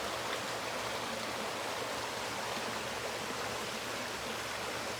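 A sparkling mountain stream near a cabin runs in a steady, full rushing wash, loud and close, with no voices over it.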